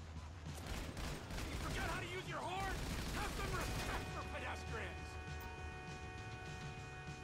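Sustained gunfire from the video game Grand Theft Auto 5 rattles continuously at high level under game sounds and a steady tonal hum, with no clear pauses.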